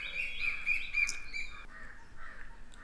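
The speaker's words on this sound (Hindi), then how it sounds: "पक्षियों का चहकना" Several birds chirp and tweet in short bright repeated calls through the first half, fading to softer, sparser calls afterward, with no talking.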